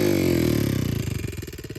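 Kawasaki KLX110 carbureted dirt bike with a Nibi carb and BBR engine revving, a strong buzzing tone that drops off into a choppy, pulsing idle-like putter, close and alone.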